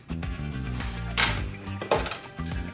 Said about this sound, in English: So we're going to add a little bit of vanilla. Just a 1/4 teaspoon.